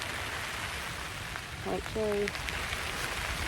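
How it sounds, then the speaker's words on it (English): Rain falls steadily outdoors over a garden, a continuous hiss of drops that stays even throughout, with a brief short voice partway through. "It is raining."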